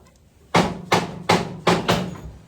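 A hammer striking kart wheel bearings in a trackside pit at Northampton Shaleway, five loud, sharp metallic blows spaced evenly about a third of a second apart, close by with little else around.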